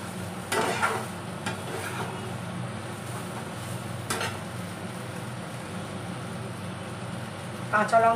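A jackfruit and potato mixture fries in a pan with a continuous sizzle, broken by a few scraping stirs of a utensil against the pan, one of them sharper near the end.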